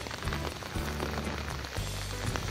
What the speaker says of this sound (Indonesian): jam 8 malam, masih gerimis